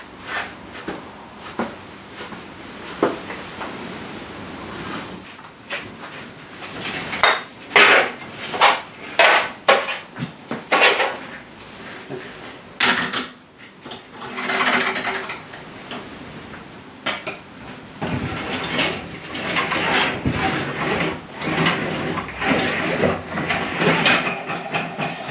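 Sheet metal is worked on an English wheel in a home garage, giving irregular metallic clanks and rolling scrapes that come in uneven bursts and longer runs, close and fairly loud.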